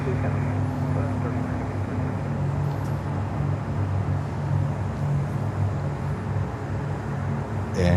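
American Airlines Airbus A319 arriving at Miami airport, a continuous distant jet roar and rumble on the approach, with people talking over it.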